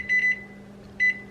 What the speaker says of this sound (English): So let me put on the timer for 20 minutes here.